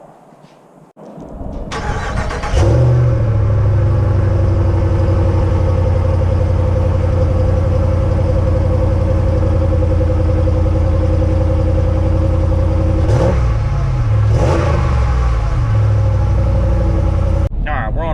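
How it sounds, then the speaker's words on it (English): A Ram pickup truck's engine cranks and catches on a cold start, then settles into a loud, steady rumbling idle, with a couple of brief surges partway through. "let's give this Ram a factory cold start"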